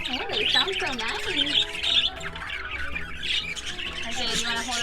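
Pet-shop birds, including a blue one, squawk and chirp close by in loud overlapping bursts, while a child and an adult talk over the calls.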